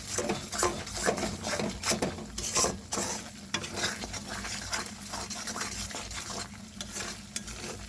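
Spices for chicken kosha fry in a pan, a dense sizzle broken by frequent scraping and clattering strokes of a spatula against the pan, close and busy throughout, with no voices.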